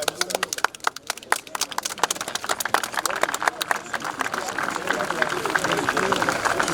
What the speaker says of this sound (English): Ladies and gentlemen, a round of applause for the representative of the Chief.